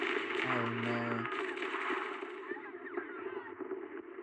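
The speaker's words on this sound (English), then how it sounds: "The gunfire and voices gradually fade away and everything turns to silence." Gunfire from a Zenless Zone Zero battle scene dies away beneath a broad wash of noise and a steady tone. Scattered faint shots and crackles keep thinning out as everything settles toward quiet.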